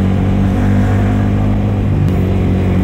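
A Yamaha R15 v3 motorcycle engine runs at a steady, loud drone, heard up close with constant low rumble and no break.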